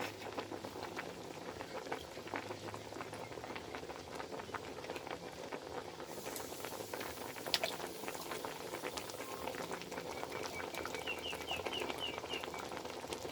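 Fermented fish (pla ra) boils in a pot, giving a steady bubbling and gentle patter that continues at moderate volume throughout, without talk.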